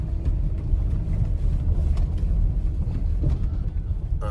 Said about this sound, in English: Here we are, driving into the farm where we should find our trailer in this big pole barn.